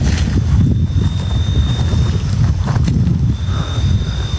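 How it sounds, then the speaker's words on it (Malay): Strong wind buffets the microphone outdoors on high ground, a loud continuous low roar and rumble with gusty swells throughout, no pauses. "Tiba-tiba angin kuat ni."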